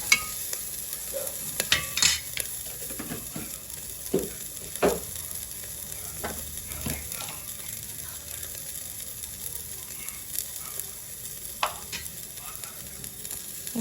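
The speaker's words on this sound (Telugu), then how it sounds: "పసుపు వేసి మిక్స్ చేయండి ఒకసారి బాగా." Turmeric gets stirred into carrot rice baby food in a pan, a soft low sizzle under scattered spoon scrapes and light taps that come in short bursts, quiet and close.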